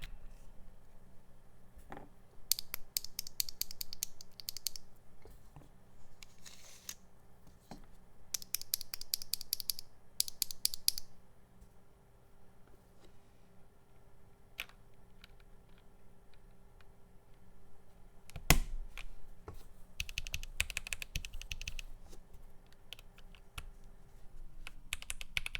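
Mechanical keyboard keys typed in bursts of quick clicks with a faint ringing ping, separated by quiet pauses, close and fairly soft with no talking.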